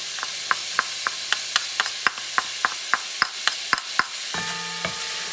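Onions sauté in a pan for Puerto Rican shrimp soup, a soft steady sizzle broken by a string of regular light taps from stirring, close and fairly quiet with no talking.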